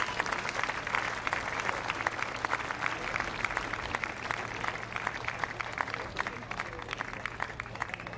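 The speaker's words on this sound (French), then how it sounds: "Grands applaudissements." An audience at a cycling tribute event applauds the women organizers, continuous moderately loud clapping with a low steady hum underneath and faint voices mixed in.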